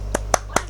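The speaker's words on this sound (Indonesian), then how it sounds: "Tepuk semangat sama-sama." A class of students clapping the rhythmic 'tepuk semangat' cheer together, three sharp, evenly spaced claps close by.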